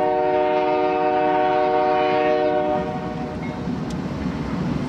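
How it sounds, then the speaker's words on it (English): A train horn blares in a sustained multi-tone chord for a few seconds, then fades into the rumble and clatter of a passing train. "And that is the train engine actually coming around."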